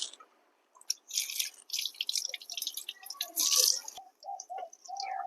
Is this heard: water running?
yes